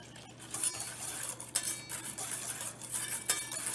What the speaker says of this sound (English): So you pour a little in, just a little at a time. Let it mix in